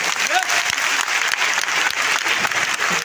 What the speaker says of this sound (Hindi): अरे वाह, क्या बात है, मैं ताली बजा सकते।